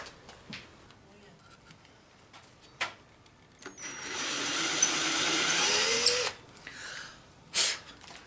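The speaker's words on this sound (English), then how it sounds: "Drill a hole, put it on the peg, and cut her." A band saw whirs up and cuts steadily through cedar wood for a few seconds, then winds down, with short tool noises before and after.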